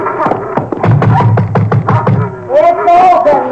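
Knocking on a door in an old radio drama, a quick series of sharp raps close by, followed by a voice.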